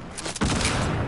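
A sniper shot in the Fortnite video game, a single sharp crack with a loud burst and brief tail, heard close and alone.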